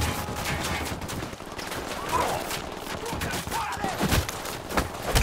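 Rapid bursts of automatic gunfire from a convoy firefight in Tom Clancy's Ghost Recon Wildlands, crackling in clustered volleys over a continuous noisy game background, moderately loud and sustained throughout.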